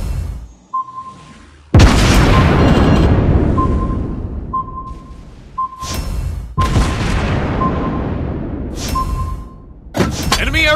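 Heavy torpedo explosions in a naval strategy video game boom loudly several times in a row, each burst ringing out over a steady tone and rumbling game sounds.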